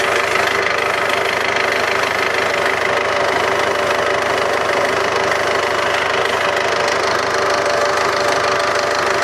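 An engine idles steadily while warming up after a repair, a continuous, loud, even rumble with a faint knocking texture running throughout, with no talk.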